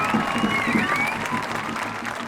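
A studio audience claps steadily to welcome a show guest, dense moderate applause with a few faint cheers and voices mixed in.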